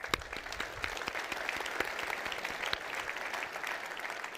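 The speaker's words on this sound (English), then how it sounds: "Please give them a round of applause." Audience applause at an almond industry conference, a steady, moderately distant clapping that continues evenly throughout with no talk over it.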